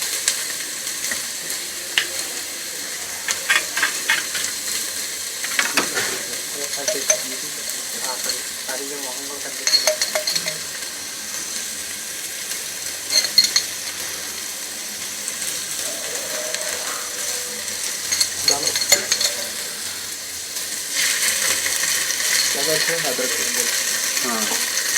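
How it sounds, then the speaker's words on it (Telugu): Palav masala mixture with ginger-garlic paste stirred and frying in a pan, a steady sizzle with scraping and clicking spoon strokes running throughout, close and moderately loud, no talking. "వేసుకున్న తర్వాత దాన్ని ఆ మిశ్రమాన్ని మొత్తాన్ని ఇలా కలుపుకుంటాం"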